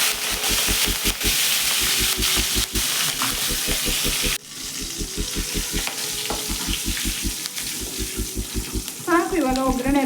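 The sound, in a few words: fresh curry leaves sizzling in oil tempering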